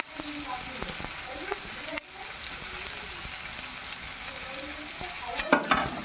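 Chopped tomatoes and onions frying in a pan, a steady close sizzle with occasional stirring scrapes and a few sharper clinks near the end, with no voices.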